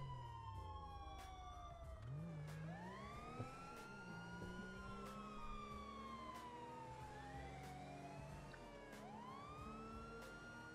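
Wailing police car siren in the video game GTA 5, loud and continuous with sweeping rising and falling tones layered over engine rumble, close and steady throughout.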